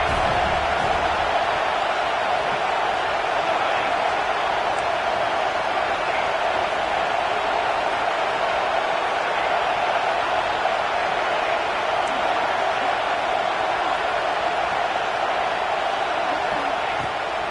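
A stadium crowd in a college football video game roars steadily on a fourth-down defensive stand, a continuous dense wash of cheering throughout with no breaks.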